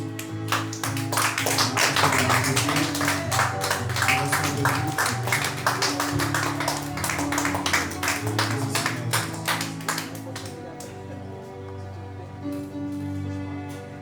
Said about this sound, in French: Continue à acclamer.